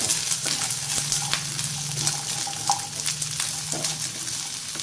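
Red chillies fry over a medium flame in a pan, giving a steady close sizzle with repeated scraping strokes as they are stirred and a faint low hum underneath, with no talking.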